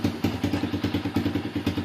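An Apollo ADR 125 motorcycle engine idles after warming up, thumping in a quick, even rhythm of low pulses at close range, moderately quiet and with no voices.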